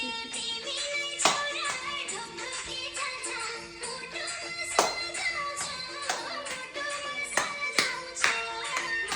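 Children clap their hands during a playful dance session, sharp irregular claps scattered over busy background music and voices.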